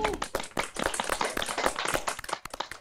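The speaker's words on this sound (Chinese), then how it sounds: "我们为大家的精彩表现鼓掌" A studio audience at a televised singing competition claps in a dense, fairly close burst of applause that continues steadily throughout.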